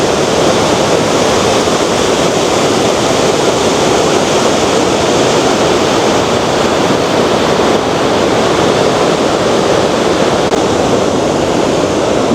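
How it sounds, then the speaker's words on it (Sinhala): A wide, low waterfall spanning a broad river roars in a loud, unbroken wash of white noise, close and constant, with mist rising off the falling water and no voices. "මේක ගොඩාක් උස එකක් නෙවෙයි පළල දියැල්ලක්."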